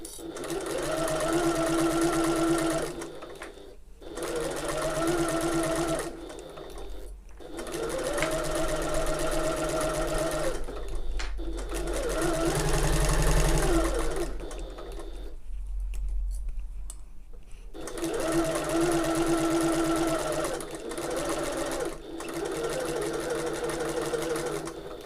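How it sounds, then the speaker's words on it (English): A sewing machine stitches along marked lines on an open top tote in several bursts of a few seconds each, separated by short pauses to lift the presser foot and pivot, close and loud. "sew across that line, lift my presser foot and pivot, and then carry on down the other side"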